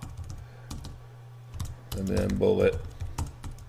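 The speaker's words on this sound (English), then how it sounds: "excuse my bad copy here, or bad typing" Typing on a computer keyboard while drafting copy, clattering key taps running through the clip under steady talk and a low hum.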